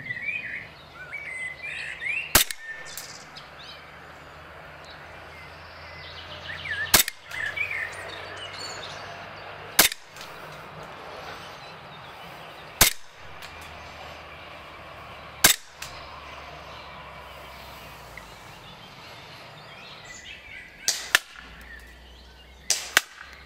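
Stark Arms S18C airsoft pistol firing 0.20 g BBs outdoors during a chrono test, about eight sharp, isolated snaps spaced several seconds apart over a quiet background of insects and birds.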